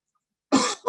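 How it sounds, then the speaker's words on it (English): A person coughs twice in a harsh, loud burst close by after a second of silence, with the second cough shorter than the first; the setting is damp underground catacombs. "How long have you had that cough?"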